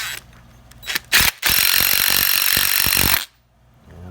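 A cordless impact wrench spins a nut in reverse on an Acura Integra power steering pump, a loud continuous mechanical rattle for about two seconds after a few short bursts, with no talking.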